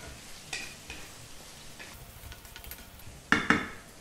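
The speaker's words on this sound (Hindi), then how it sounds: "एक मिनट तक भूनिए" Ingredients for bhindi baingan kadhi, green chillies among them, fry quietly in a pan while being stirred, with a low sizzle and a few sharp scrapes and clinks of the utensil against the pan.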